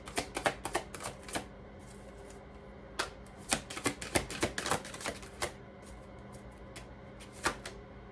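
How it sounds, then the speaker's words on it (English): A large deck of tarot cards being shuffled in split halves, giving irregular bursts of crisp riffling clicks and flutters that come close and fairly loud, separated by short quieter pauses. "I have to split these because it's too big of a deck to get it all shuffled correctly"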